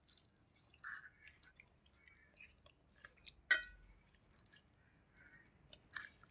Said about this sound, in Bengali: এইবার আমি দেখুন মশলাটা তেলের সঙ্গে খুব সুন্দর করে মেখে নিচ্ছি